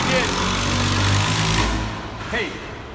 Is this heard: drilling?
yes